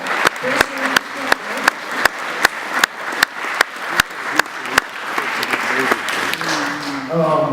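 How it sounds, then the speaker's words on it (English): An audience claps at a concert, a strong rhythmic unison beat of evenly spaced loud claps that loosens into scattered applause near the end, with voices rising over it. "So, we give him a round of applause."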